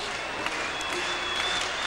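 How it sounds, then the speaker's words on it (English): Crowd applause rolls through a hockey arena at a Canadiens–Bruins NHL game, a steady wash of clapping heard at a distance. "Applause for Derek."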